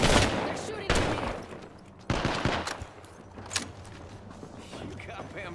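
Gunfire bursts in the video game Apex Legends, several sharp volleys and scattered shots amid busy game sound, with a voice speaking over the action.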